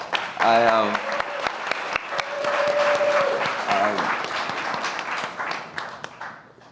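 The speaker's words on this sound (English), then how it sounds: "Look, round of applause." An audience at a tech and economics panel breaks into a sustained round of applause, dense clapping that swells and fades over several seconds, with a voice speaking over it.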